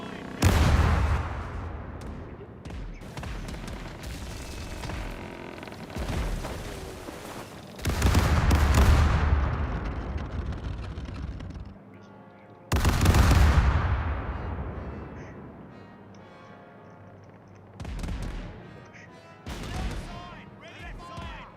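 Ship cannons fire in the naval battle video game Caribbean Legend, with several loud booming volleys that trail into long rumbling decays, separated by quieter stretches of background game sound.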